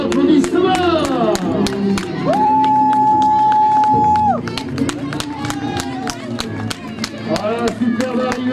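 Crowd clapping and cheering for a runner's arrival at the finish of a trail race in Bergouey, lively sustained applause with shouts and a whistle, under an announcer's voice.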